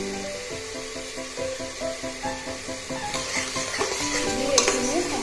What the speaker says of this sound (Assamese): দি এইখিনি সম্পূৰ্ণ লৰাই দিব